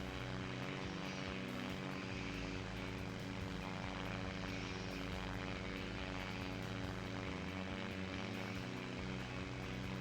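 A small civilian propeller aircraft flying in the SimplePlanes VR video game gives a loud, steady, continuous engine drone with no voices over it.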